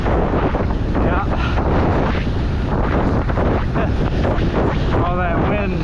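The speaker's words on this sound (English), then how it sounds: "All that wind." Heavy wind roars into the microphone throughout an outdoor ride, with loud continuous buffeting and gusts; a voice is briefly heard over it.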